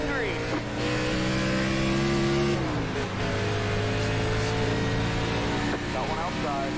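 NASCAR race cars at the Daytona 500 roar loudly and continuously, engines droning at steady high revs with one pitch shifting down partway, a dense pack sound without a break.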